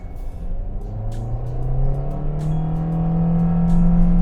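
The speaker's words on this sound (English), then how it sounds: "Okay, let's give it some acceleration." A 2023 Toyota Vios with a DVVT-i dual overhead cam engine accelerating, close by, its engine note rising steadily in pitch and growing louder over about four seconds, with no talk.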